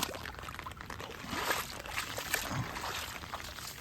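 Rainwater runs slowly into a village stream channel during the monsoon, a steady hissing trickle and gurgle that stays at an even level throughout, with no voices.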